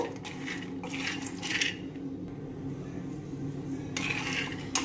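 Peanuts roast in a thick-bottomed pan over a low flame, and a spoon scrapes and stirs them in short clattering bursts with quieter gaps between.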